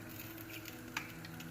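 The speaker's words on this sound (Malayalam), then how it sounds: "വറുക്കാനുള്ള മീനൊക്കെ അടുപ്പത്ത് വെച്ചിട്ട്" Fish frying in a pan on a home kitchen stove, a faint steady sizzle with a soft pop near the middle, no talking.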